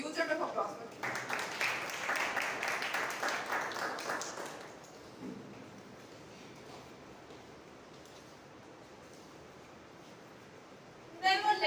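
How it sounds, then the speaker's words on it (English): A round of applause from a Toastmasters club meeting audience builds quickly, holds as steady mid-level clapping for a few seconds, then thins away into quiet room tone, with a brief burst of clapping returning at the very end. "A huge round of applause for him"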